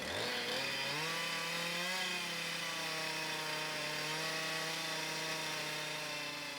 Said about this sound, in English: Rick Pratt, who has a studio in Clarence, he actually works with chainsaw.